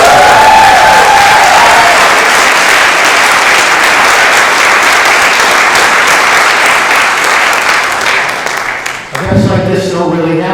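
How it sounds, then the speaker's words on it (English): A large audience at an awards event breaks into loud, sustained applause with scattered cheering, the clapping carrying on steadily before fading near the end under a raised voice. "So what about one more round of applause?"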